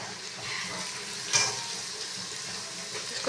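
A paste of garlic, ginger and dried coriander sizzles steadily in a pan with browned onions, a soft continuous hiss broken by one brief clink near the middle.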